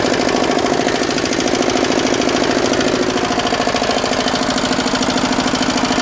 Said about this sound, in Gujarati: જો અત્યારે આ ટ્રેક્ટર છે ને રિવર્સમાં જાય છે